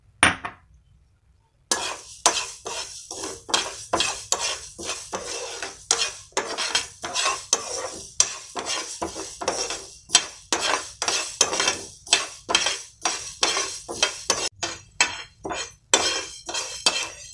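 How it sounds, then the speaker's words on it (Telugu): Mustard and fenugreek seeds being fried and stirred in a pan, with steady scraping and clinking of a spoon against the metal, loud and close, following a brief silence at the start. "ఇందులోనే 2 టేబుల్ స్పూన్ ఆవాలు వేసుకుని ఫ్రై చేసుకోవాలి"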